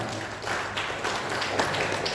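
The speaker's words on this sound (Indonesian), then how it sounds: "Tepuk tangan untuk kita semuanya." Applause from an audience at a regional council session approving the 2024 budget, a steady wash of dense clapping that stays even and fairly loud from start to finish.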